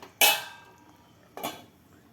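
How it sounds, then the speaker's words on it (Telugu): Two distinct metallic clanks ring out a second apart as a lid is set onto a pot of upma made from broken wheat rava, each fading quickly into a quiet room. "మూత పెట్టేసుకుందాం"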